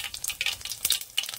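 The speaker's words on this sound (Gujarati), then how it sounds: "તેલ ગરમ થઈ ગયું છે, તો હવે રાઈ નાખી દેવું આપણે." Mustard seeds and cumin crackle and sizzle in hot oil for tempering, with sharp bursts of popping over a steady frying hiss, close and fairly loud with no talk.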